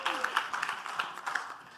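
Faint, patchy clapping rises from a meeting audience for a woman who has just spoken at a W20 South Africa gathering. The sound is soft and distant, with scattered claps rather than a full ovation.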